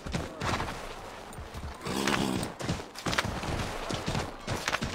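Horse hooves clip-clopping in Assassin's Creed III as a horse is ridden through the streets of Boston, a quick, uneven run of close hoof knocks mixed with other game noise.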